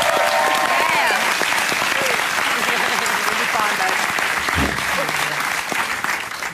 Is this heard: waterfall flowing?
no